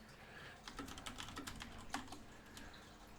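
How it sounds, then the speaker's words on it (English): Someone types on a computer keyboard, giving a quick irregular run of soft clicks and clacks that is faint but close, with no talking. "I can't type and talk at the same time while I type."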